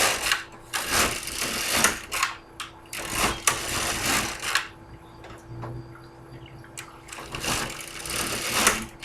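An LK150 knitting machine casts on stitches with waste yarn: the carriage slides across the needle bed in repeated rattling, clacking passes, each a few seconds long, separated by short quieter gaps.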